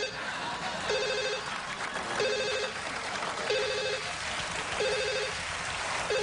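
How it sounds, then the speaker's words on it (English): An office telephone bell rings in four regular bursts about a second apart, each short trill standing out over a steady wash of rain-like background noise. "Will someone answer the damn phone?"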